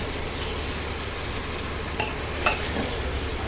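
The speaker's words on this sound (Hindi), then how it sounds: "इन सब सब्जियों को डाल के बस मिक्स करना है" Mixed vegetables with salt being stirred in a pan, heard as a dense, steady sizzle close by, with one or two faint utensil clinks.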